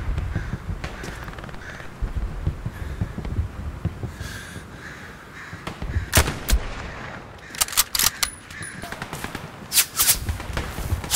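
MP40 submachine gun fire in the World War II shooter Hell Let Loose: loud, sharp cracks in scattered bursts, growing denser and more rapid in the second half, with no talk over them.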